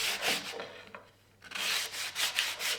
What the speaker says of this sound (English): rather than do it on the router, I'll just do it with sandpaper.